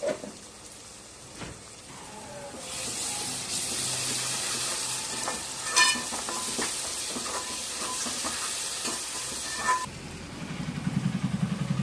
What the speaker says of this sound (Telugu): ధనియా పౌడర్, జీలకర్ర పౌడర్ అవన్నీ వేసుకొని వాటిని బాగా నూనెలో వేయించుకోవాలి